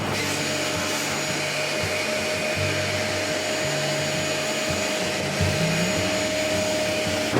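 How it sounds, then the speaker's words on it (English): A vacuum cleaner sucking fly ash out of a Kuuma Vapor-Fire 100 wood furnace runs steadily and loudly up close, its motor whine shifting slightly in pitch as the nozzle moves around. "then you can go ahead and vacuum out any of that fly ash"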